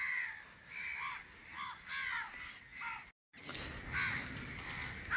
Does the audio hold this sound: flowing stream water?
no